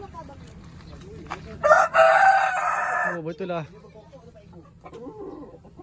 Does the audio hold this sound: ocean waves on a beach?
no